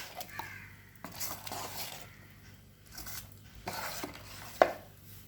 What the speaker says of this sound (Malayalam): മാവ് ഇതെല്ലാം കൂടെ നന്നായി മിക്സ് ചെയ്യുക